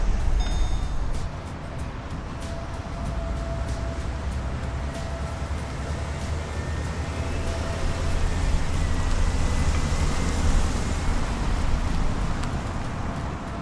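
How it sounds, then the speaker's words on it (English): A 2009 Pontiac G8 GXP engine drones steadily while driving on the road, a low continuous hum with road and wind noise layered over it, swelling slightly in the latter half. "I hope the mics can pick this up because this engine sounds terrific"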